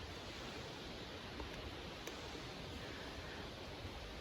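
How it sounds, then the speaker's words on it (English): Soft, continuous rustling of wind through leaves, a broad whooshing wash that swells gently like distant surf. "the wind is creating just beautiful sounds in those tall leaves that are at the top of the trees."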